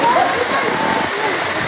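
Kawasan Falls in Trinidad pours in a steady, close, broadband rush of falling water, filling the whole moment without a break.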